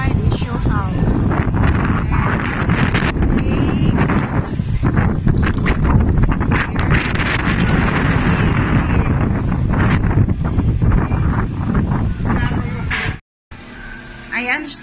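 Strong wind buffeting the microphone outdoors at a town house construction site in Cebu, Philippines, a loud continuous roar with gusts that drowns out someone speaking, before cutting off abruptly near the end.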